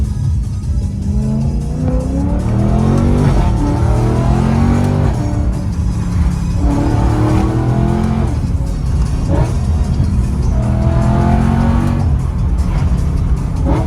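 A BMW E9X M3 with an aftermarket exhaust, catalytic converters removed, Dinan intake and Stage 2 tune, revs repeatedly in close, loud bursts, its engine note climbing and falling several times with no talk.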